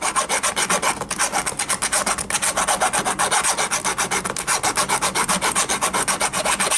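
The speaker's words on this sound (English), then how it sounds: "make the hole a little larger. If I wanted to make a sliding rivet, in this case with a file" A hand file rasps steadily through a rivet hole in steel medieval armor plate, enlarging it for a sliding rivet, with fast, even back-and-forth strokes that stay loud and close throughout, no talking.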